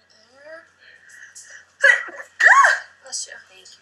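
Indoors in the Big Brother 20 house, soft murmuring voices are followed by two sharp, close sneezes in quick succession. A faint voiced sound trails after them.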